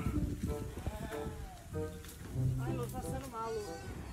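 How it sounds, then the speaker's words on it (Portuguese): Goats bleat on a forest trail in a few wavering calls that rise over and between steady conversation, fairly close and moderately loud. "E as cabras ali?"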